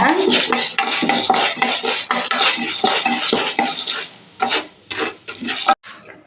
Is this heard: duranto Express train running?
no